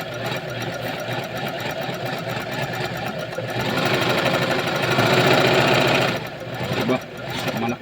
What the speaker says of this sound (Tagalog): Malakas din pala tong motor niya.